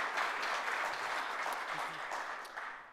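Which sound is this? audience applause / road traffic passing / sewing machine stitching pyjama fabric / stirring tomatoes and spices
audience applause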